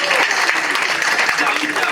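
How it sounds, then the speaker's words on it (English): Audience applause during a live comedy hypnotist stage show, a dense steady wash of clapping lasting the full two seconds, with voices mixed into the crowd noise. "Can you give these guys a big round of applause"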